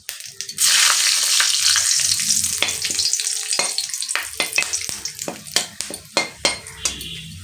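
Whole spices (two bay leaves, cloves, cardamom and cinnamon) sizzle loudly in hot oil for a Bengali mutton curry, a bright continuous hiss that settles into sharp crackles and pops near the pan.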